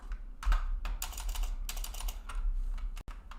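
Rapid typing on a computer keyboard at a home PC, a dense run of close clicking keystrokes with brief pauses and one louder key thump.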